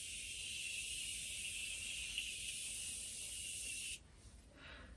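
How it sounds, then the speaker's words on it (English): A makeup setting spray in an aerosol can, similar to a hairspray can, releases a steady hiss for about four seconds, then cuts off sharply into quiet room sound. "it's a can, kind of like a hairspray can, so it's supposed to give a very light mist"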